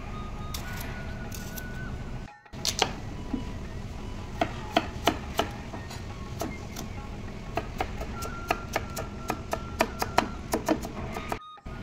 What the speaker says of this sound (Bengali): বিটটাকে একদম ছোট ছোট করে কুচিয়ে নেব।